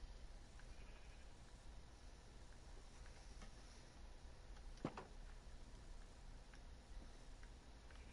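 Faint Minecraft sheep bleats sound a few times over a steady hiss, with a single sharp click partway through.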